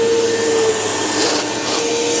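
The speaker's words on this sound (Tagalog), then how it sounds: "rainbow vacuum guys." A Rainbow vacuum cleaner running steadily at close range, a loud, continuous whining roar with a constant tone and no pauses, no voices over it.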